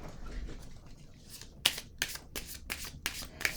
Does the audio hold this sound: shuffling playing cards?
yes